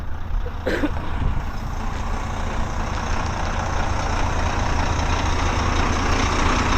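Trucks and other vehicles idle and rumble in a traffic jam on the Amba Ghat road, with a steady low engine drone close by and a brief brake hiss near the start.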